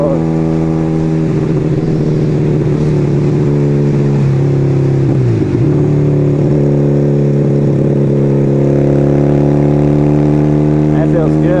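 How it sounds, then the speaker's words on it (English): A motorcycle engine drones steadily and loud while riding a long country road, with a brief dip and rev midway through. "Riding motorcycles is a good stress reliever"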